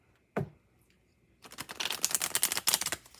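A deck of cards shuffled by hand: one sharp tap, a pause, then a dense run of rapid riffling clicks and flutters up close, ending in a final burst.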